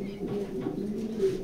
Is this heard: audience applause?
no